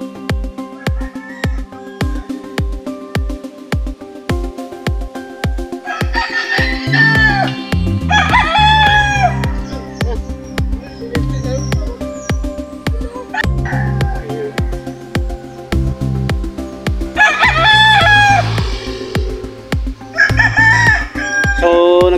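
Several fighting roosters at a cockfighting gamefarm crow loudly in turn over a steady rhythmic beat and background clatter, their calls overlapping at close range.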